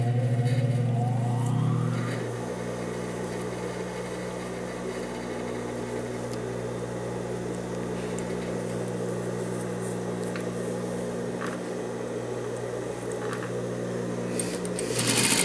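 A sewing machine stitches trouser belt loops at a 1 mm seam, its motor running in a steady, continuous whir after a brief start-up, close and even with no talking.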